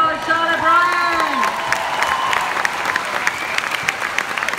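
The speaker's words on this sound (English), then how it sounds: "Give her a round of applause, Charlotte Bryan." An audience applauds at a business testimonial event, sustained clapping with some cheering. A voice speaks over the start before the applause carries on alone.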